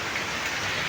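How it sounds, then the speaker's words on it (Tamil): Heavy rain pours down during a thunderstorm, forming a dense, steady hiss of drops striking surfaces nearby, continuous and fairly loud throughout the short moment. "ஆனா இன்னும் மழை நிக்கல."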